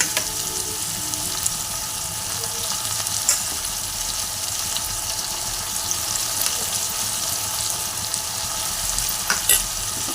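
Onions frying in oil with tomato paste being stirred in for a Bengali-style chicken curry: a steady, close, dense sizzle with soft scraping from stirring, continuous throughout and with no voices.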